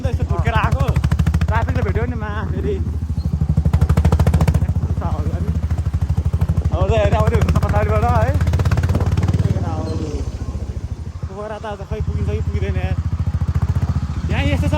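A motorcycle engine thrums with a rapid, staccato exhaust putter throughout, while people talk loudly over it.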